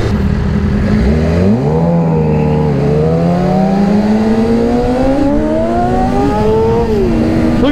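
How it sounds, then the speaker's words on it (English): A Triumph Speed Triple motorcycle engine is held at full throttle, a loud continuous roar whose pitch climbs steadily with short dips between gears, close and steady throughout. "Look at this, I'm full throttle right now. Yeah. That speed triple sounds so good."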